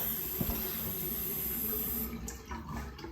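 Water pours from a tap into a vanity sink in an off-grid house built in the woods, a steady close hiss of running water that briefly shifts and splashes near the end.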